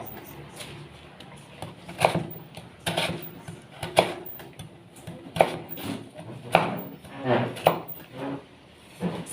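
A knife shaves a block of palm sugar on a board, close up, in a series of soft scraping strokes with sharp taps at irregular intervals, and quiet speech runs in the background.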